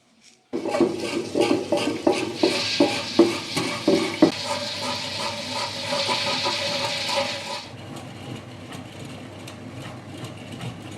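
A wet grinder churns soaked urad dal into idli batter, giving a steady rumbling whir with rhythmic knocking and sloshing from the stone rollers, close and loud, easing into a quieter even hum toward the end.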